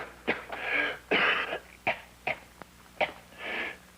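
A persistent, rasping cough from a man in a 1950s TV drama, several hacking bursts and throat-clearing rasps in quick succession, close and loud.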